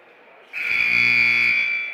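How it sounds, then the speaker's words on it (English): A long electronic buzzer sounds in a gym at a high school varsity basketball game, marking the end of a period. It is one loud, steady blast of about a second and a half that cuts in abruptly and fades at the close. "second buzzer goes"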